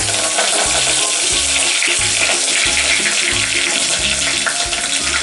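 Curry leaves, mustard seeds and cumin sizzle and crackle steadily in hot oil in a pan for a Pallipalayam chicken dish, loud and continuous, with a regular low thumping running underneath.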